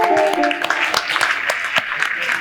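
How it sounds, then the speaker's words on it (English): Audience at a corporate fireside chat with the PWAN Group president breaking into scattered, uneven clapping that grows denser, with a voice speaking over it. "I want you to start clapping."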